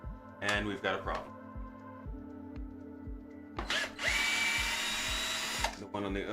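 Power drill spinning, with a couple of quick early bursts followed by a long sustained whir, close and loud over steady rhythmic thumping, with talk in the background.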